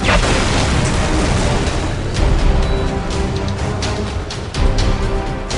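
Guns and explosions in a Warhammer 40K Dawn of War Soulstorm battle between Chaos and Eldar make a continuous loud roar of booms, with sharper bursts standing out near the two- and four-and-a-half-second marks.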